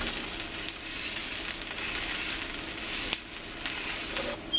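A dosa sizzles and crackles steadily on a hot pan after being flipped, a continuous frying hiss with a brief sharper crackle near the middle and no talk.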